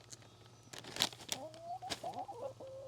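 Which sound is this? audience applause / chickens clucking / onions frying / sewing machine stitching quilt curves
chickens clucking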